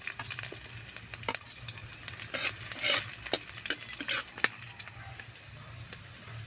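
Garlic and ginger sizzling in hot oil in a pan, with steady frying crackle and repeated sharp scraping strokes of a spatula stirring, close and fairly quiet.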